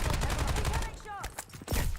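Rapid bursts of gunfire and bullet impacts strike the player in the Warzone shooter, a dense stuttering barrage that thins out briefly mid-clip before loud shots return near the end, with scattered game voice callouts.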